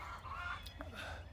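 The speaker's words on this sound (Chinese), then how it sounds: "再听听这个树林里边的鸟叫啊" Several bird calls, honking and clucking like fowl, ring out from woods beside a vegetable greenhouse over a steady low background hum, fairly close and moderately loud.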